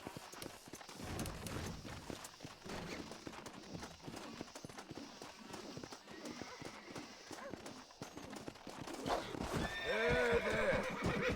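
A horse in the video game Red Dead Redemption, hooves clip-clopping in a steady rhythm under a man's speech, ending in a loud close whinny.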